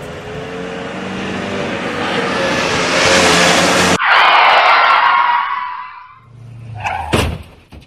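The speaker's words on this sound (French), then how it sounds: "il se fait percuter par une camionnette" A van accelerating and striking a pedestrian, a dramatized street sound effect: a loud rising engine roar, an abrupt impact, a long screeching skid fading away, then a sharp final thud.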